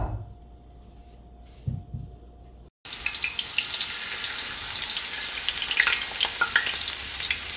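Food hits hot oil and bursts into a loud, steady sizzle that continues to the end, after a quieter stretch of water running and light handling in a kitchen.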